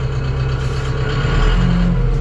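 A diesel ENEY KB-504 tractor engine runs steadily in the low gear range, a loud, close, continuous rumble with a strong low drone and slight variation in pitch, without speech.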